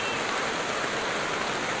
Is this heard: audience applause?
no